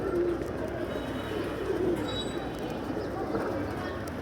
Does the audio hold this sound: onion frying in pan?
no